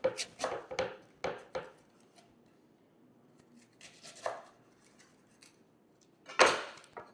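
A knife cuts through a head of escarole on a cutting board, with a few sharp chopping thuds at the start and one louder slice near the end, separated by quiet.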